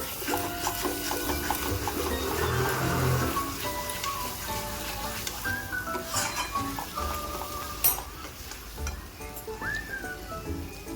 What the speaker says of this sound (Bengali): ভালো করে নাড়াচাড়া করে একটু ঢেকে দিচ্ছি।